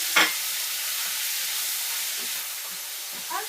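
Boiled mutton dropped into a pot for biryani lands with a single short splash, followed by a steady hiss of sizzling and bubbling, with a faint clatter near the end.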